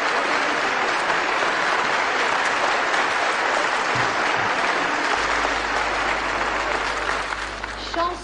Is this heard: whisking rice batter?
no